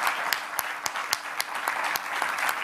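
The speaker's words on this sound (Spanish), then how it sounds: "vamos a darle un aplauso desde aquí" A crowd at a political rally in Venezuela claps for a boxer, close, loud hand claps falling in a fairly regular rhythm over a dense bed of applause.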